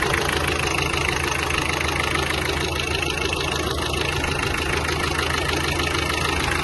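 A 2020 Kia Seltos turbo engine idles steadily during a used-car inspection, giving a constant close mechanical hum and whir with no change in pace and no talking.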